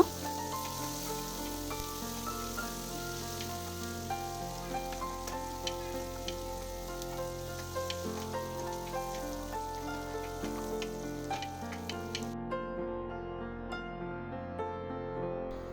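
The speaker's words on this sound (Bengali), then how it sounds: "2টো মাঝারি সাইজের কোচানো পেঁয়াজ দেব, 1 মিনিট ভেজে নেব।" Two medium sliced onions fry in soybean oil in a kadai with a steady, dense sizzle. It crackles on for the whole stretch with no one speaking.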